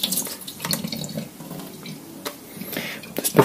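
Water pours and splashes as it is emptied from the drip tray of a Philips EP5444 LatteGo coffee machine, a close, uneven running trickle lasting a few seconds with small bursts toward the end.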